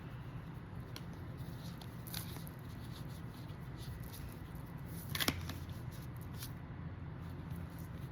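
Tarot cards being shuffled by hand in a quiet room, a soft continuous papery riffling and patter with a few sharper card snaps, heard close with no talking.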